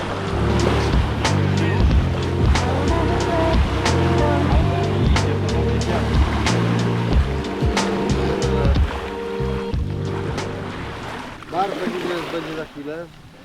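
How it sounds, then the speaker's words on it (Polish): Small wind-driven waves lap steadily at a lake shore during a fishing outing. The waves give a continuous washing noise, with someone talking over them. "No i mamy wiaterek, który robi fale."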